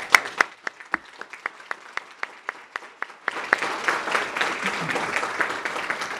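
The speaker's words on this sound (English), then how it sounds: "Can we have a round of applause for them?" Scattered individual claps at first, then swelling into fuller applause from a crowd at a leadership awards ceremony, moderately loud and continuous.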